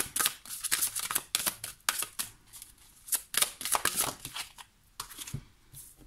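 Tarot cards shuffled and dealt onto a table, a run of quick riffling flutters and soft slaps in irregular bursts with brief pauses between, close and fairly quiet, no talking.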